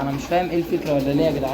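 Pigeons in a rooftop loft coo in soft, repeated throaty phrases, held close and steady beneath a voice as he talks over them.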